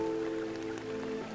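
Rain falls in the video game Raison d'etre as a soft, steady patter, faint and even throughout, under quiet sustained tonal music with no talking.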